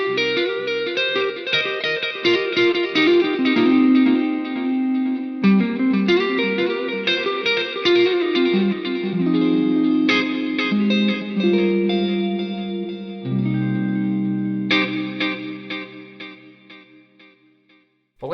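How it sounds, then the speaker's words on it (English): An electric guitar runs through an Eventide H9 delay and reverb, playing ringing chords and notes whose echoes trail and overlap into a lush wash, phrases shifting every few seconds before fading out at the end. "you do have a really lovely delay and reverb."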